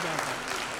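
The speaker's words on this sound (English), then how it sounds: "So please, round of applause." An audience at a 20th-anniversary social innovators awards event applauds in a steady burst of many hands clapping, with some talk mixed in.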